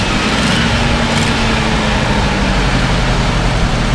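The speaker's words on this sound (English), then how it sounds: "Go ahead and rev it up a little bit." A 1971 Dodge D200 truck with a 383 engine runs at steady raised revs, a loud, close, continuous drone with a slight exhaust leak, and no talking over it.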